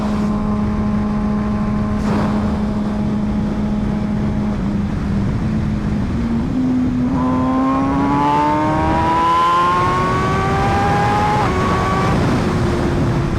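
An MV Agusta Brutale 1000RR motorcycle accelerates hard through the gears, a steady engine drone giving way to a rising, revving whine with a quickshifter blip, loud and continuous, with wind noise throughout and no talking.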